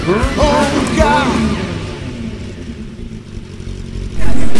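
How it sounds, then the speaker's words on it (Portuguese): A street motorcycle fitted with a Roncar Coiote Racing sport exhaust revs with rising and falling roars, then bursts into a loud, full-throttle blast at the very end. "o ronco forte de um escapamento"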